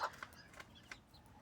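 An İspenç rooster and hen give a few short, sharp clucks at close range, with quiet pauses between and no voices.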